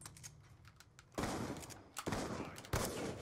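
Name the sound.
gunshot in a first-person shooter video game trickshot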